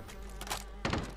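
Weapon reload in Warzone Rebirth Island with a Groza rifle: a pair of short mechanical clunks, a softer one followed by a louder metallic clack near the end, over low background game hum.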